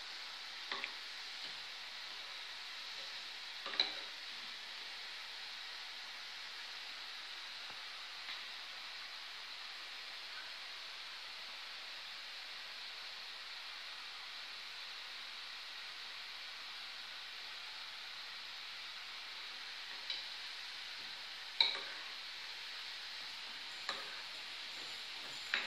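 Potato heart slices frying in hot oil, a steady soft sizzle with faint crackles and a few sharp pops scattered throughout.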